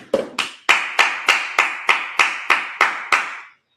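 A congregation at a Sabbath service claps in unison: about ten loud, sharp claps at a steady beat, close and with no talking, ending after roughly three and a half seconds.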